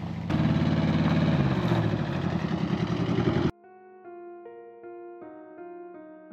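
A tractor engine running loud and close in the countryside of Touraine, a steady rumbling drone that cuts off abruptly partway through, followed by quiet tonal music.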